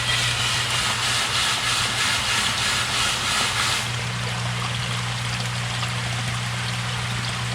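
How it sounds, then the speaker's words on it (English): Water rushes and gushes steadily out of a koi pond drum filter's outlet during its self-cleaning cycle, loud and continuous, easing to a lower, steady flow with a motor hum partway through. "it's doing a self-cleaning cycle. You'll see all the water come out of here through that hole there"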